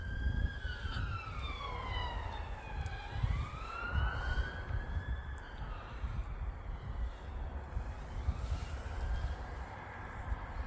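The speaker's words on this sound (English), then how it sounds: "Whoop, whoop. It's the sound of the police." A police car siren sweeps up and down in wailing arcs, fairly loud and close, over steady roadside traffic rumble for about ten seconds.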